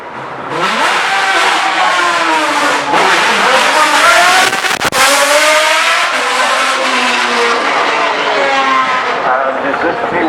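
A supercar at the Goodwood Festival of Speed revs loudly and sweeps past up close, its engine note rising and falling through gear changes with a brief dip midway, over steady crowd and track noise.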